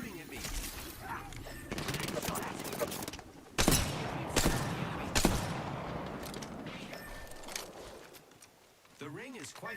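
Video game gunfire cracks in several sharp bursts amid a battle-royale match, loud and near, with a player talking over much of it.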